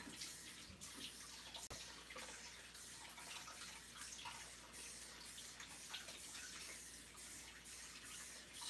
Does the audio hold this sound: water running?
yes